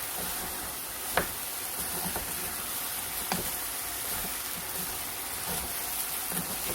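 Meat frying in a dry pan with no added oil, for onion curry rice: a steady broadband sizzle with a few sharp spatula scrapes and pops, close and continuous, no talking.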